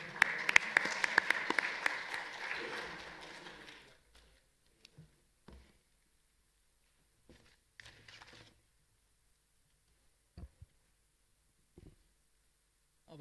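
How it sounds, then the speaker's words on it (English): Brief applause from an auditorium audience welcoming a guest speaker on stage at a university workshop on intellectual property rights, moderately loud for about four seconds, then fading into near silence with a few faint knocks and shuffles. "please give a round of applause for Sir to come on stage"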